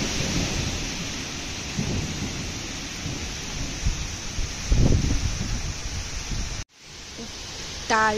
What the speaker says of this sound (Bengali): বিভৎস জোরে মেঘ ডাকছে। বৃষ্টি শুরু হয়েছে আর খুব ঝড় হচ্ছে